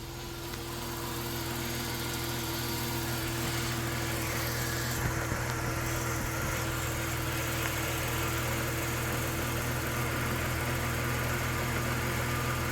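The engine of a 1990 Dodge Grand Caravan LE, just fitted with a new alternator, idles steadily up close with its headlights on high beam, a constant droning hum with no talking.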